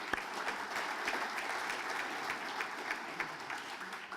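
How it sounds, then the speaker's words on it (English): A round of applause at an apartment building dedication, with steady, dense clapping from a crowd in a room, lasting the whole stretch at a moderate, even level. "So maybe just a quick round of applause for those guys."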